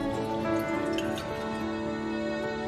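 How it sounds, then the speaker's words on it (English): Water pours steadily into a saucepan, a continuous close trickle with a faint ringing tone from the pan, under a constant background hum. "In a saucepan, combine half cup of water,"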